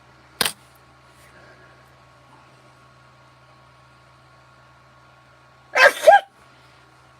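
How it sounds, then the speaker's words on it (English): A single sharp, loud sneeze bursts out close by in a quiet room during a live OO gauge model railway session, preceded by a brief click and faint hum. "I'm going to sneeze."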